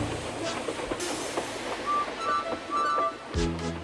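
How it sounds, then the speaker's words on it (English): Train coaches on a heritage railway start moving one after another, with low rumbling and clanking couplings, brief squeaking tones and a heavier thud near the end. "The first coach moving helped to start the second"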